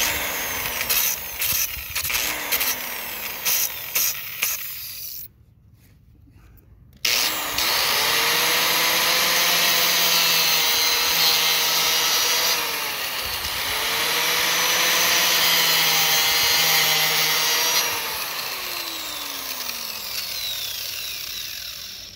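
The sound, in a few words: power tool cutting a groove in a truck brake pad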